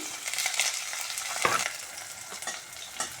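Chopped large onions sizzle and crackle steadily in a hot pan for a garlic tamarind kuzhambu, with occasional scraping from stirring, close and fairly loud, no voices.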